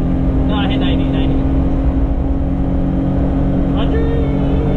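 Steady, loud engine drone and road noise from a Daihatsu Midget 2 microtruck cruising at speed, a continuous hum heard from inside the cab with someone talking over it.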